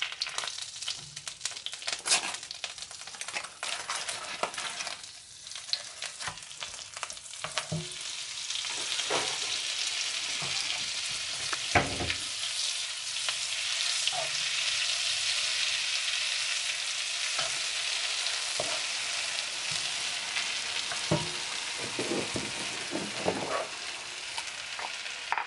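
Shrimp sauce with butter and cooking oil frying in a pan, stirred with steady spoon scrapes and clicks over a continuous loud sizzle, no talking.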